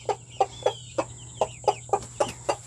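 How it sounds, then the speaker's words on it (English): A rooster makes a run of about ten short, evenly spaced clucks, each rising and falling, as he calls hens to food in a backyard coop with six-week-old Silkie chicks. The clucks are close and clear over a low steady hum, with no talk. "He's calling the hens to come get it."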